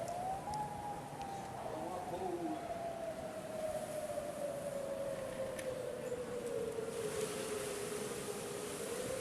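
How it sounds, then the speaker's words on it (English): Outdoor tornado siren sounding during a dual-tone test, a long steady wailing tone sliding slowly downward in pitch, carried from a distance over broad background noise and heard alone for the full span. "How did they add a dual tone siren?"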